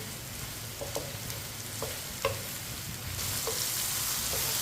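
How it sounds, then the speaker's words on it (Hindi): Ridge gourd fries in a pan while a spoon stirs it, giving a steady close sizzle with a few light spoon scrapes and clinks against the pan. No one speaks. "इसी तरह इसे चम्मच चलाते हुए पकाना है"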